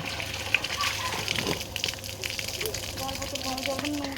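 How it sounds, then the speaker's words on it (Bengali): Water is poured and filled into bottles at home with a continuous gushing, sloshing flow, fairly close and moderately loud, with no clear voices over it. "তো রান্নার জল টল, খাবার জল টল সব তুলে রাখলাম।"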